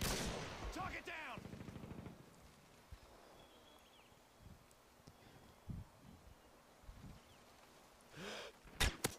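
Call of Duty: Modern Warfare 2 team deathmatch on the Wasteland map, with sharp game gunshots and short bursts early on, then scattered footsteps and thuds before a few more loud reports at the close.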